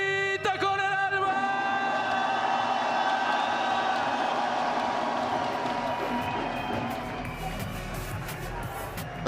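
Esports arena crowd at VALORANT Masters Santiago roaring and cheering loudly, a dense continuous wall of shouting with a sharp burst near the start, the roar gradually easing toward the end.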